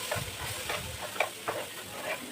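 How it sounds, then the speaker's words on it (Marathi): Semolina sheera with banana fries in a pan as hot milk goes in, giving a steady close sizzle and bubbling hiss, broken by soft rhythmic stirring scrapes. "एक वाटी दूध घेतलेलं मी गरम लागेल तसं टाकते दूध"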